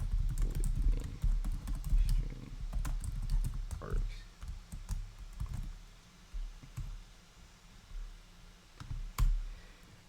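Typing Java code on a computer keyboard: a dense run of close key clicks that thins into scattered, irregular taps, fairly quiet throughout.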